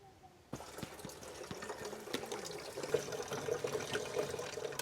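A coffee maker at a dry campsite on Wellesley Island, New York, pours liquid into a cup after a click, a soft steady trickle with gurgles building, faint and close.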